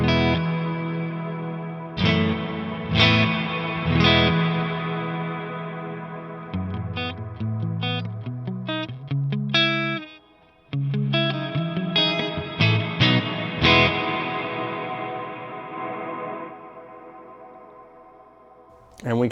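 An electric guitar played through overdrive and reverb on an Xotic Effects Stereo X Blender loop pedal rings out in chords and short picked runs, notes decaying into long reverb tails with a brief gap midway.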